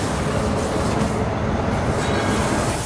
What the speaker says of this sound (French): Le tramway.